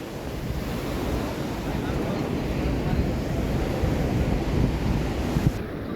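Sea waves break on a beach in a continuous, close, rumbling wash, thick with gusty wind buffeting the microphone throughout.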